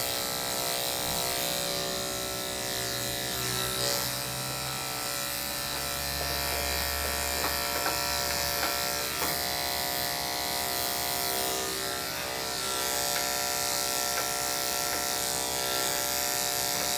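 Electric dog grooming clippers with a 10 blade working on a matted Yorkie, a steady close buzzing hum running without a break throughout, its pitch shifting slightly as the blade moves through the coat.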